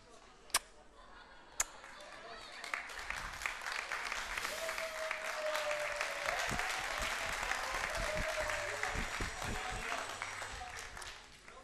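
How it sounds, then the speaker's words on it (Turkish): Studio audience applause for a Turkish television show, a dense sustained wash of clapping that swells and holds for several seconds, with a couple of sharp claps at the start and talk running underneath. "Efendim, bir alkış alabilir miyiz?"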